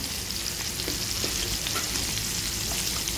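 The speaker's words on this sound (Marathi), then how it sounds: "पनीर फ्राय केलेलं होतं त्याच पॅनमध्ये आता आपण कांदा, टोमॅटो हे सगळं भाजून घ्यायचं आहे." Onion, tomato and green chili fry in the same pan used for paneer, giving a loud, steady, close sizzle with faint stirring scrapes throughout.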